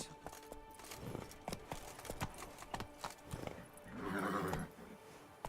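Roach, the horse in The Witcher 3 game, clip-clops along on steady hooves and gives a short whinny near the end. The sound is close and clear, with no talk over it.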